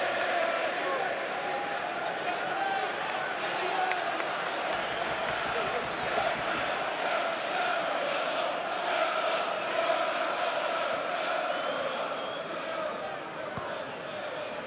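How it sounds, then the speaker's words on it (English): A football stadium crowd at Chelsea versus Liverpool applauds Diego Costa, a broad, distant roar of clapping and murmur that holds steady throughout while a commentator talks over it. "Another generous round of applause for Diego Costa."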